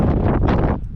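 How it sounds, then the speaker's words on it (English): A gust of wind buffets the microphone outdoors at an auction, a brief, loud, rumbling blast of noise that eases off toward the end. "I'm going to try to record in between wind gusts."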